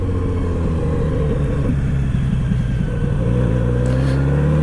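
A 2023 Kawasaki Z900RS motorcycle rides on country roads in Wisconsin, its engine droning loud and close and rising in pitch as the throttle opens, with wind noise over it.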